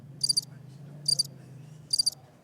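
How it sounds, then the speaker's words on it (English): Crickets chirp in three short, evenly spaced bursts, moderately loud over a quiet low hum. "Crickets."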